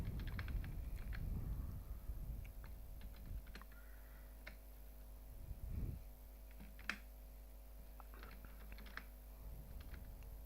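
Keystrokes on a computer keyboard while filling in a form in MS Word, a fairly steady run of soft close clicks over a constant background hum, with no talking.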